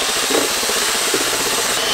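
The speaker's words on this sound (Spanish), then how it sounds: "Un taladro para batir la masa." A power drill whirs steadily and loudly throughout, churning dough in a home kitchen with a continuous grinding rasp and no pauses.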